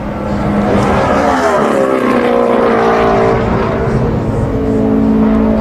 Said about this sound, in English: Travis Kvapil is already locked in after the Joe Nemechek car made his run.